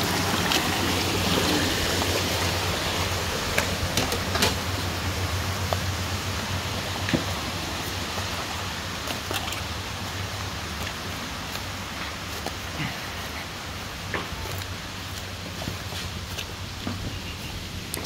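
A river flows down from the hills past a rural farm area, giving a steady, continuous broadband rush of water close by, with no voices.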